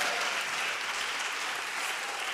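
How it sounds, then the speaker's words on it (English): Audience at the Women Political Leaders Summit in the European Parliament applauds the 10th anniversary, a steady wash of clapping at moderate distance throughout. "The first round of applause belongs to the celebration of the 10th anniversary of women political leaders"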